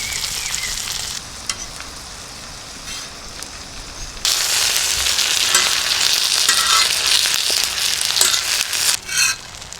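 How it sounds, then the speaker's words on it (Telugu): Sanduva (pomfret) fish fries in oil in a village kitchen, a steady crackling sizzle that swells louder partway through, with occasional stirring or turning noises and no talk. "చేప ఫ్రై అయిపోయిందండి, పక్కకు తీసుకుందాం"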